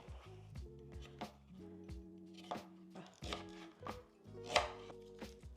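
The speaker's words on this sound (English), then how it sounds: "Rough chop some cleaned scallions." Knife rough-chopping cleaned scallions for wonton soup on a cutting board, a series of sharp close taps at an uneven pace, with a voice and low tonal background sounds underneath.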